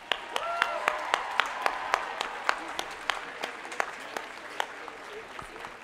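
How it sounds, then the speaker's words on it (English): Graduates at the UW–Madison 2018 spring commencement in a stadium applaud their families and supporters: a dense, sustained wash of many hands clapping, with sharp individual claps standing out, moderately loud and without speech. "let me ask all of our graduates here to join me in applauding the friends, families, and supporters out there in the stands"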